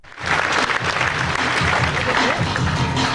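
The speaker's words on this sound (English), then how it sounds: "Let's have a big round of applause." Steady applause from a crowd at E3 2001, clapping dense and continuous for a few seconds at moderate volume, with no talking over it.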